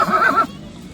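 A Kathiawadi horse gives a short, close whinny lasting under half a second, cutting off abruptly into quiet background.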